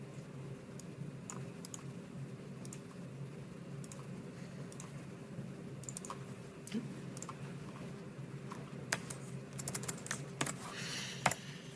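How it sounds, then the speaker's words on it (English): Steady typing on a computer keyboard, a run of light clicking keystrokes at close range with occasional louder taps, set over a low constant room hum with no talking. "Then I don't have to keep typing it."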